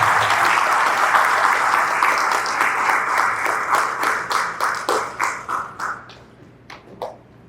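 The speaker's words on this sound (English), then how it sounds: "let's give them a big round of applause for showing up" Graduation audience applause rises as full, dense clapping, then thins out into scattered individual claps that fade to a few last isolated claps.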